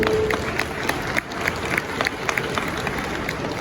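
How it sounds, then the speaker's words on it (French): Audience applause at the Paris Manga convention, a crowd clapping steadily in a large hall with sharp individual claps standing out, loud and sustained throughout. "Si on peut les applaudir, s'il vous plaît."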